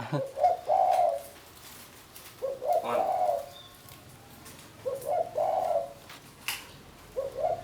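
A guard bird that was once a decoy bird coos at people nearby. Four loud, close cooing phrases arrive a second or two apart over a faint outdoor background, and no voices are heard.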